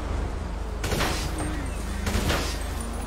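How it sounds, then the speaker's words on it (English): Gunfire aimed at the tires of a bike in a GTA video game, two sharp shot bursts around one and two seconds over a steady background of game noise. "I'm gonna shoot the tires on his bike."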